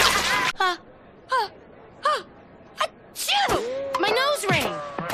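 A cartoon character sneezes from hay fever with a series of short wheezing inhales and pitched gasps, building into a loud sneeze followed by moaning and wailing vocal sounds.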